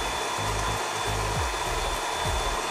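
An electric hand mixer runs steadily, beating eggs and sugar until thick, a continuous close whirring drone with slight shifts in pitch as the beaters move through the batter, and no talking.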